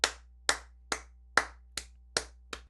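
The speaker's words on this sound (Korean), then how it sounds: "박수 한번 드릴까요?" Seven sharp hand claps at an even, unhurried pace, crisp and close, with nothing else around them.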